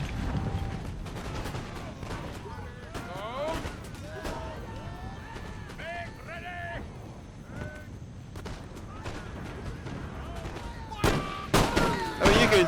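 Musket volleys and gunfire in an Empire: Total War battle between British and Ottoman armies firing at hussars, with repeated sharp shots and crackling fire over a steady battle din, loudest toward the end.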